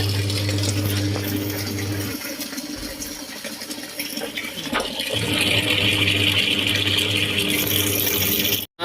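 A kitchen water tap left running while a cook prepares papaya for dinner, giving a steady rushing hiss of flowing water that continues without a break, close by and fairly loud.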